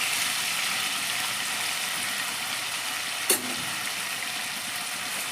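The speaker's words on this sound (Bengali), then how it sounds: "এবার আমি পনিরগুলোকে হালকা করে একটু ভেজে নেব, খুব বেশি ভাজবো না, হালকা করে ভেজে নেব" Paneer cubes fry lightly in white oil in a wok, giving an even, continuous hiss that barely changes, broken once by a single small click.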